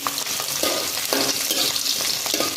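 Garlic frying and being stirred in a pan for curry lime pickle, a steady close sizzle with soft scraping strokes in a regular rhythm, no voice.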